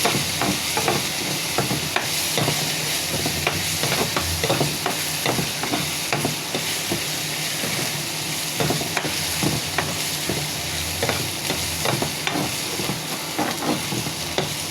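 Ginger, garlic and onion sizzle loudly in a hot pot while a spoon scrapes and clinks against the metal at a steady, repeated pace.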